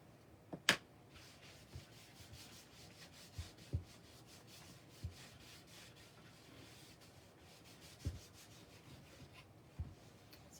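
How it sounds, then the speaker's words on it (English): Wax being rubbed onto a wood surface, a quiet continuous scuffing with occasional soft taps and clicks, close and faint. "I'm just putting some wax on my wood surface"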